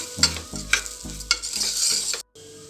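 A spoon scrapes and stirs daliya roasting in a hot pan in several rhythmic strokes over a low sizzle, close by, then a brief cut to near silence.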